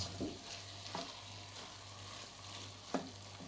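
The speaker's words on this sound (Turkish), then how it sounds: "karıştırmaya devam ediyorum" A spoon stirs olive börek filling with walnuts in a pan, giving a few soft scraping strokes over a low steady sizzle, with no talking.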